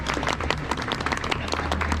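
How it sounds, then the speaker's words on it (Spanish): An audience at a book presentation applauding the author: a burst of brisk, dense clapping from a room of people, fairly close, over a low hum. "Le damos un fuerte aplauso."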